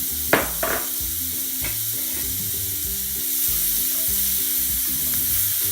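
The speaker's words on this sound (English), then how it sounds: "I'm going to add my onion to it." Diced red onion hits a hot pan with a loud initial sizzle and a couple of scraping clatters, then a steady frying hiss that swells slightly and continues alone without talk.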